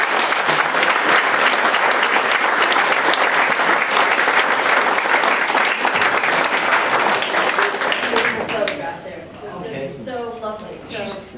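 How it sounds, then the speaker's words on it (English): An audience at a talk on China's hermit tradition breaks into sustained, loud applause that fills the room for about eight seconds, then thins out as a voice begins speaking over the fading claps. "So first, a round of applause."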